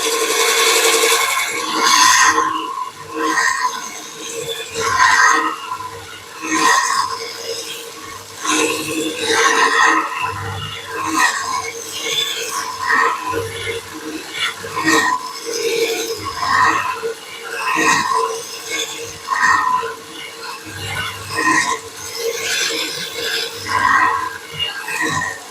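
A belt grinder reprofiles a woodturning bowl gouge in a run of short rasping passes, one side then the other, each grinding burst rising and falling in a steady rhythm, close and loud with no talk.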